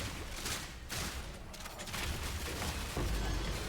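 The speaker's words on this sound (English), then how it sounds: "Lots of blood explosions." Repeated gory bursts and blasts from blood explosions chaining through enemies in Path of Exile 2, loud and dense throughout with crunching impacts and rumbling booms, no voices.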